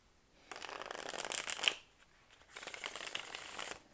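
An 1890 Grand Alietta card deck is shuffled in two quiet, close bursts of crisp riffling, one short and one longer, with a brief pause between them.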